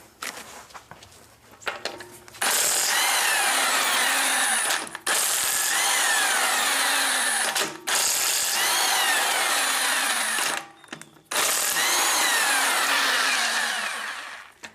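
Power tool work on a Fiat 500 wheel during a rear spring and shock job, a harsh buzzing whir in four long loud bursts, each several seconds, split by brief pauses and preceded by softer clatter.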